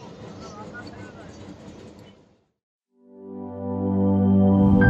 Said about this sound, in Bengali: রোববার সকালে যশোর থেকে আবার রূপদিয়ার রেল স্টেশনের উদ্দেশ্যে ছেড়ে যাবে ট্রেনটি